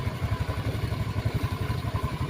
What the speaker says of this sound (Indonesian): lha kae motor turun kene